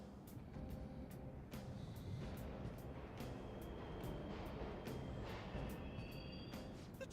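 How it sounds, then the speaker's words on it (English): Subway trains run through a station in the Persona 5 Royal video game: a continuous low rumbling roar with faint metallic squeals and rattling, distant and steady throughout with no talking. "The trains are totally running."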